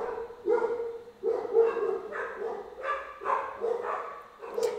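A dog barks in a steady series of loud, close woofs, about six barks evenly spaced with short pauses between.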